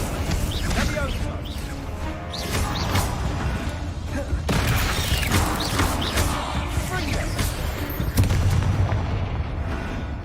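Spell explosions from the Hogwarts Legacy video game, a dense run of booming blasts and crashing impacts that keep going over a rumbling game soundtrack, loud and busy throughout.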